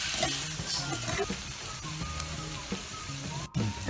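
Dry fish and tomatoes sizzle steadily in a pan while being stirred, with a continuous close frying hiss and occasional scraping of a utensil.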